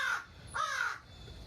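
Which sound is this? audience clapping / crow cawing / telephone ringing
crow cawing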